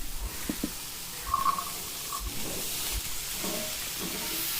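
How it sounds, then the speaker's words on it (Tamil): Mixed vegetables for bisibelebath sautéing on high heat in a pan with tomatoes, a steady soft sizzle with a few stirring scrapes and clinks, close and moderate. "எல்லா வெஜிடபிள்ஸையும் சேர்த்துட்டு நல்லா ஹை தீயில் வச்சு ஒரு தடவை வதக்கி விடுங்க"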